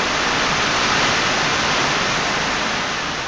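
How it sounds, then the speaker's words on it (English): Hard driving rain beats down outside a shed, a loud, dense, unbroken hiss like static that holds steady for a few seconds with no voices. "That is a hard driving rain."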